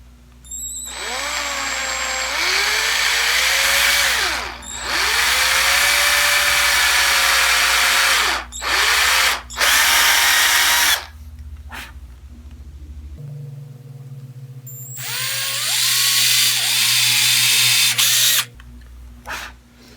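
A power drill bores tuner holes in a guitar headstock, loud and close, in several long whining bursts separated by brief pauses and a few short blips, with no talking.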